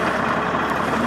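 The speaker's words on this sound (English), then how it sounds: "Wait for the truck." A truck rumbles past at moderate distance as a steady, low, broadband roar with no distinct peaks, brief and alone.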